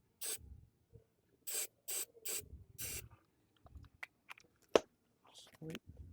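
Starting fluid sprayed into the carburetor intake of a Honda HRN216 lawn mower with a surging, no-start fault: five close, sharp aerosol hisses in quick succession, followed by quieter handling clicks.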